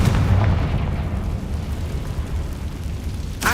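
A Confringo blasting spell erupts in Hogwarts Legacy as one loud, rumbling fiery explosion that slowly fades, with a sharp burst coming at the end.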